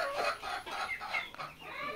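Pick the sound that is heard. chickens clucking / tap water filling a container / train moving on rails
chickens clucking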